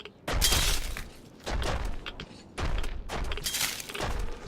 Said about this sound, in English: is there enough broken glass in this room?